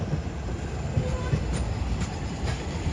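An Alsthom 4124 diesel locomotive hauls a rapid passenger train with second-class air-conditioned cars through a Thai rail yard, giving a loud, close rumble with rhythmic wheel clatter and faint squeals.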